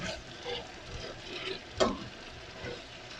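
Tuna and sliced pechay being sautéed in a pan with garlic and onions, a soft steady sizzle with scraping stir sounds and one sharper clatter midway, close and fairly quiet.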